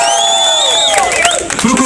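A crowd at a rap battle shouts and cheers loudly, high voices whooping and calling out together in a brief, excited burst.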